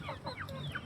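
Aggressive three-month-old chickens cluck in a brief, faint burst of several overlapping calls, with no talk.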